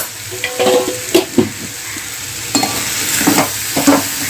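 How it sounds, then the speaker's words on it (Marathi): A spiced potato vegetable is stirred in a hot pan, with a close sizzling hiss and repeated scraping and clacking spoon strokes coming in short bursts. "चांगली अशी मिक्स करून घ्या भाजी मसाले जे आहेत ते सगळे लागले पाहिजे"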